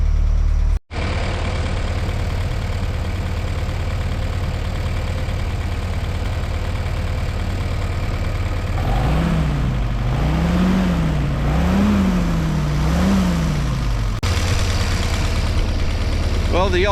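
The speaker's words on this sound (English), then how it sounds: "We're going to drive around the property in four-wheel drive just to make sure that still works too." A 1955 Willys CJ5 jeep engine runs steadily close by, a low rumbling idle that swells into rising and falling revs as the jeep drives off, with a sharp click early on.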